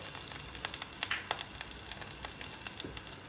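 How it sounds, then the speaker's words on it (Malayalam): Ginger, green chilies and curry leaves frying in a hot pan for a fish curry, a light continuous sizzle with scattered sharp crackles and pops. "ചട്ടി ചൂടാവുമ്പോൾ ആദ്യം ചെയ്യേണ്ടത് നമ്മളെടുത്ത് വെച്ച ഇഞ്ചിയും പച്ചമുളകും കറിവേപ്പിലയും ഇതിലിട്ട് കൊടുക്കുക"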